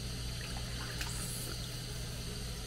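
Cucumbers being washed in water mixed with vinegar, a soft steady trickle and slosh of water running continuously at close range, with no talking.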